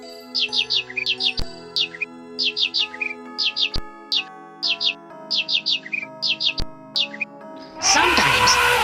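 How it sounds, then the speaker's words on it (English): Bright, repeated bird chirps and tweets in a garden, coming in quick clustered bursts with short pauses between, fairly close and clear, ending in a louder burst of noise. "A lot of bird and butterfly comes to the garden."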